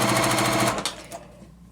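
A sewing machine stitches quilt pieces together in a short, steady mechanical whir that stops abruptly, followed by a couple of faint clicks.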